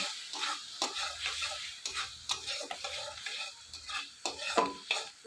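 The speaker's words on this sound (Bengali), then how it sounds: "তেল ছেড়ে দিয়েছে মশলা দিয়ে ভালো করে মাখবো" Spices stirred and fried in oil in a pan, with a steady sizzle under repeated scraping strokes of a spoon against the pan, close and moderately loud, with no talk.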